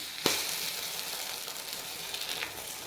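An omelette sprinkled with pepper fries on a hot dosa griddle, giving a soft steady sizzle with a couple of faint sharp crackles, quiet and close with no talking.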